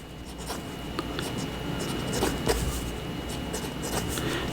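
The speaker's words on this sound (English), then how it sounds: "Okay, so let's see how the pen writes." A Faber-Castell Hexo pen with a medium nib writes on paper, giving a close, steady scratching with brief strokes and taps across the whole stretch, with no talking.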